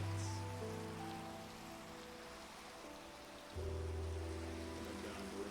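Rain falling in the video game Minecraft, a continuous hiss of drops on surfaces under low steady game music tones, with no talk.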